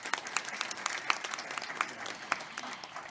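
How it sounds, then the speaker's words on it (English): A brunch audience gives a round of applause for the novelist Raj, with scattered, fairly faint individual claps sounding unevenly through the room for a few seconds. "So a huge round of applause"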